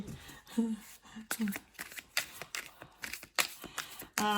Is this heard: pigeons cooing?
no